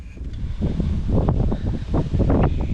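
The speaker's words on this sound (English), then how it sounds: "It's a windy day today." Gusty wind buffeting the microphone in low rumbling bursts, a continuous outdoor roar that swells and eases across the whole stretch.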